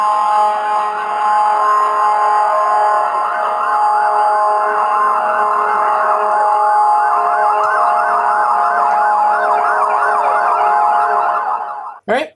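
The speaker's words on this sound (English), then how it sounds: "this is just a police car that's just going nuts, you know, trying to approach" A loud, wailing police siren cycles rapidly and continuously, close and dominant, then cuts off abruptly near the end.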